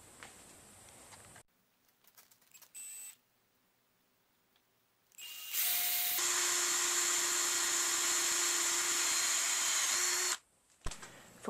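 A drill with a 5.16 mm bit bores through aluminium for a telescope dovetail, a loud, steady whine of about four seconds after short quieter clicks and handling noises.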